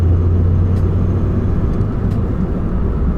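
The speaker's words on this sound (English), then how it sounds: "Here you'll see me go through the gears." Gears change with a short shifter inside a Honda Fit, two brief mechanical clicks sounding over the loud, steady engine and road rumble of the moving car.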